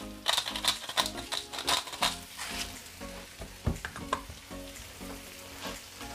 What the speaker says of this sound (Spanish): Todo esto lo vamos a rehogar a fuego medio, lo vamos a pochar durante unos 10 minutos aproximadamente.